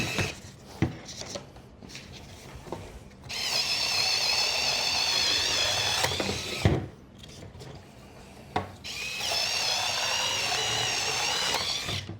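Fanttik C10 Pro electric scissors on eco mode cut through cardboard in two sustained, close runs of steady motor whine, separated by a short pause with clicks and handling noise.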